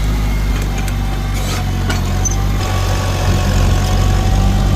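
A tractor engine at three-quarter throttle in second gear labors steadily while pulling a plow uphill at a plow day, a loud continuous low drone that swells slightly near the end, no talking.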